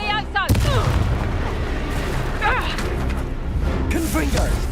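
Confringo spell blasts in Hogwarts Legacy, loud explosive booms and crackling impacts bursting repeatedly amid combat, with voices shouting over the fight.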